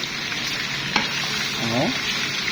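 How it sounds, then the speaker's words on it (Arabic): Large-cut onions sauté with meat in a pan, giving a steady loud sizzle close by with occasional stirring scrapes and a faint voice under the frying. "البصل ناي وبرده نشوحه مع اللحمه"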